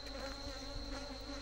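A natural swarm of jandaira stingless bees (Melipona subnitida) outdoors gives off a steady, close insect buzz, a continuous faint hum with no pauses and no voices.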